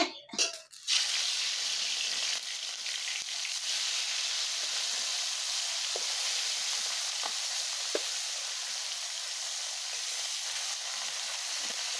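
Rohu fish pieces frying in hot oil in a wok give a loud, even sizzle that holds steady and close, following a few clattering knocks at the start, with faint occasional ticks and no talk.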